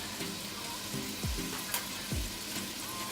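A prawn and chorizo mixture with Knorr cubes and mixed herbs sizzles in a pan while being stirred, a steady frying hiss broken by a few scraping sweeps of a utensil, close and without speech.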